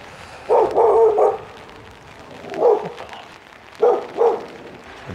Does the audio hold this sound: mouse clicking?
no